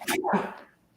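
A single sharp sneeze from someone in a garage working on an LS-swapped Volvo, a quick breathy burst followed by a short voiced release, close by, then a faint trailing sound.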